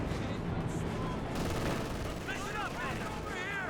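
Gunfire crackles through a Company of Heroes 2 video game battle as Panzer Grenadiers exchange shots near a 251 half-track, steady rattling shots with brief voices in the mix.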